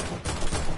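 AK rifle gunfire in a shooter video game comes as a short burst of rapid, dense shots, loud and close, with no talking over it.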